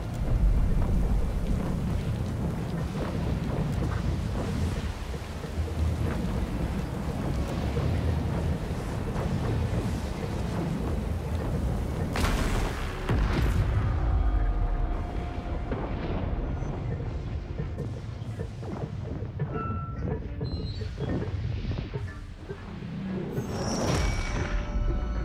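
Storm-controlling machine in Pillars of Eternity II: Deadfire winds down, heavy rumbling and clattering thunder-like noise that thins midway into sparser whirring tones and scattered clanks before fading.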